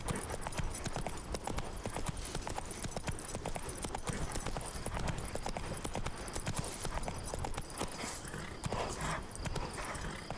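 Hooves of the horse Roach clip-clop at a steady galloping rhythm in The Witcher 3 video game, loud and continuous throughout with dense ambient game sound behind, no talk over it.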